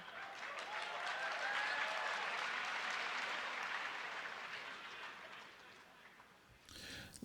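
A large audience bursts into sustained applause and cheering for Jordan Peterson, a dense wash of clapping that holds steady for several seconds before gradually thinning out near the end.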